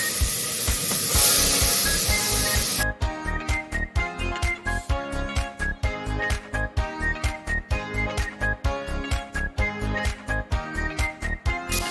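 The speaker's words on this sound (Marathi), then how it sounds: "मसाल्यावरती दुधी जो कापलाय बारीक तो टाकतो" Finely chopped bottle gourd drops onto frying masala for a field-bean dal, setting off a loud spraying hiss that gives way after a few seconds to steady rhythmic pulses with ringing music-like tones over them. No one speaks.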